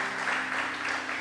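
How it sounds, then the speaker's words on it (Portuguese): Sustained applause from a church congregation during an evangelical service, a steady dense wash of many hands clapping at even loudness for the whole stretch, no voices on top. "Quem pode aplaudir esse Deus maravilhoso?"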